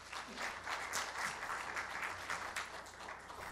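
Dense, steady applause from a large audience at the 60th anniversary ceremony of Cheonwonsa, continuous clapping that holds level throughout without voices.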